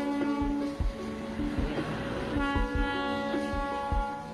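Darjeeling toy train passing around Batasia Loop in the Darjeeling hills, with sustained, steady horn-like tones over a run of low rhythmic thumps from the wheels, heard up close with no talking.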